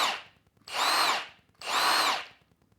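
A Milwaukee Fuel mid-torque impact wrench fires two loud, close bursts of roughly half a second each while tightening, separated by brief quiet gaps.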